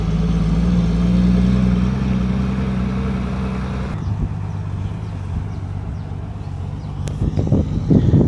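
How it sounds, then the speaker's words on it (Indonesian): A truck hauling fill soil at a toll road construction site rumbles steadily nearby, its engine droning continuously with a shift in tone midway and some clatter near the end. "kita lihat truk ini membawa tanah timbunan"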